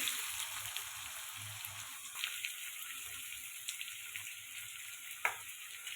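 Carrots and other vegetables fry in plenty of ghee with a little white oil in a very hot wok, a steady close sizzle with occasional scrapes and clinks, no talking.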